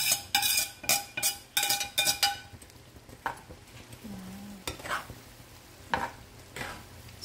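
Fried shrimp being stirred together with sauce in a pan for shrimp salvatore, producing a series of loud clattering scrapes and stirring knocks over a soft sizzle, with quieter scrapes later and no talking.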